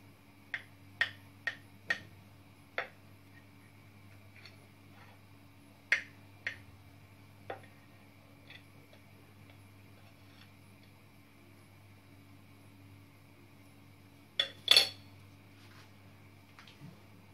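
A knife cuts into a piece of preserved lemon, giving several sharp, quiet ticks and taps spread through a faint background hum, with a louder cluster of cuts near the end.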